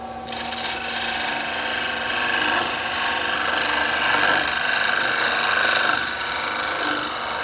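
A chisel scrapes rough wood on a Shopsmith lathe, giving a steady, loud, broadband rasping hiss over the spinning motor hum that runs almost without a break and eases slightly near the end.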